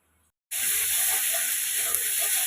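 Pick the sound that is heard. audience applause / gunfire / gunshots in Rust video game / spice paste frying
spice paste frying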